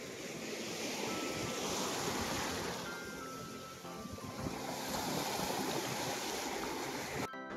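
Sea waves washing onto a quiet hidden beach in Mumbai at dusk with a rising tide, a steady broad roar of surf with wind noise on the microphone, continuous and fairly distant.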